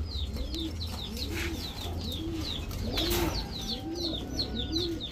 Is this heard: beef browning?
no